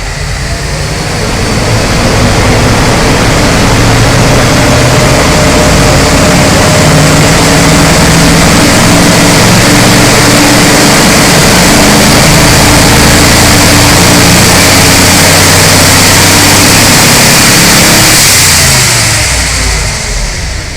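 A 1949 Buick 320 straight-eight engine with stock internals and a ProCharger supercharger runs steadily and loudly close by, a dense continuous engine roar with slight revving swells throughout.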